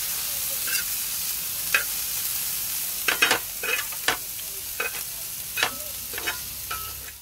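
Chillies, coriander and whole spices fry in a hot pan with a steady sizzle, broken by sharp crackles and spatters about every second, close and fairly loud with nobody talking.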